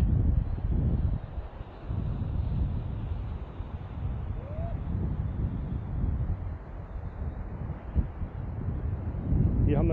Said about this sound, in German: bisschen Windgeräusche, denn ich habe für dieses, für die Kamera jetzt kein externes Mikro